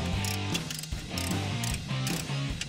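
Ratchet clicking in rapid repeated bursts while backing out the final bolts on an old truck steering column, close and fairly loud with a steady rhythmic cadence.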